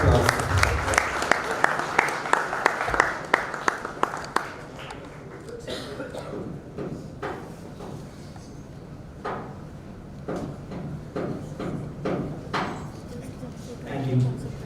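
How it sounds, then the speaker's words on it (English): Applause from a conference audience at the ETHforAll kickoff rings out strongly for about four seconds, then fades to scattered claps as a voice speaks over the hall. "Huge round of applause."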